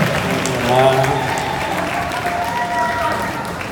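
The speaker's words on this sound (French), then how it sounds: "Continue applauding." A crowd at a convention applauds continuously, a broad wash of clapping with cheering voices mixed in. It holds at a steady, fairly loud level throughout, and some talk rises over it.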